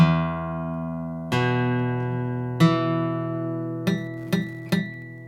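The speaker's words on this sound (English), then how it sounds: "if it sounded plunky somewhere, that's probably because one of your fingers is touching one of the strings." A guitar chord is picked string by string with one string muted, several ringing plucked notes followed by quick, dull, clipped plunks near the end, close and without speech.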